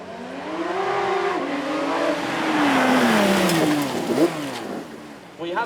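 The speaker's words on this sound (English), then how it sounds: "up we have our GT3 RS, a 4 litre flat six in this, 513 horsepower" Porsche GT3 RS with a 4-litre flat-six, 513 horsepower, revving on a track at a supercar weekend, its engine note rising and falling loudly as the car passes close by.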